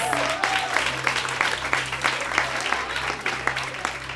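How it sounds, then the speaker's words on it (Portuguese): Congregational applause at a Brazilian church women's teaching session, steady clapping throughout with a low sustained hum and a few voices mixed in. "você tem que aplaudir ao Senhor"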